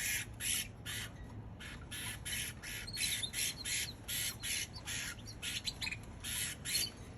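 Baby canaries squawk and beg for food in repeated shrill bursts, near and loud, over a steady low background hum with no talking.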